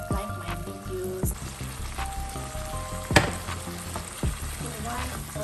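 Meat fries in a pan while rice dishes are being cooked, giving a steady, close sizzle. Sharp clinks and scrapes of stirring break through the sizzle at intervals, and no one talks.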